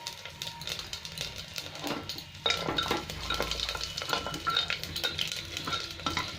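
Whole cumin seeds and asafoetida sizzle in hot oil for dal, a steady crackling fry that jumps louder midway as more spice goes into the pan, with faint utensil clinks.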